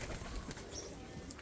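Semi-adult Teddy pigeons coo softly in a loft, a low murmuring call under faint background noise over a short moment.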